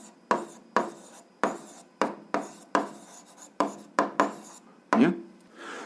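Pen or pencil writing out the answer to an eighth-grade algebra exercise, a series of about ten short scratchy strokes in an uneven rhythm, close and fairly quiet, with no talk over them.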